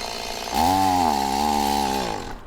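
Chainsaw run by workers cutting trees in a new residential neighborhood, a loud steady high-revving whine held for about two seconds after a short quieter lead-in.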